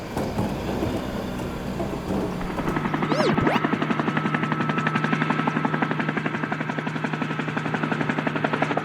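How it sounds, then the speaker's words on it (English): A helicopter's spinning rotor blades chop in a rapid, steady rhythmic beat that grows louder and holds close, preceded by a brief whooshing sweep. "Helicopter, a flying vehicle with spinning blades on top."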